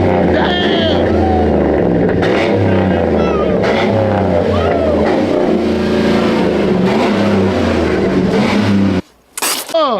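Lifted truck with a 6.2 V8 revving loudly at an outdoor truck meet, a steady low engine roar with rising and falling pitch, crowd voices mixed in, cutting off abruptly near the end.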